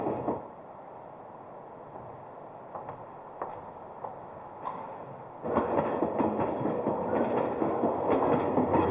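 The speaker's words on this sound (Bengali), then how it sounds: "ট্রেনটা আবার ছেড়ে দিল।" A train pulling out of a station, rumbling steadily with faint clicks before growing louder midway into a dense rolling clatter of wheels on rails.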